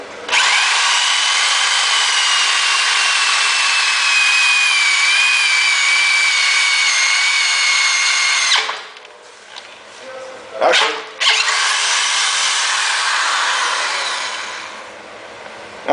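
Power drill boring top bolt holes through a GBody 10/12 bolt rear end for a big brake upgrade, a steady loud whine for about eight seconds, then brief bursts and a second sustained run until it trails off.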